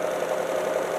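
An electric-converted BMW drivetrain in second gear spins the back wheels, giving a steady, smooth mid-pitched whir with a faint vibration, close and continuous throughout.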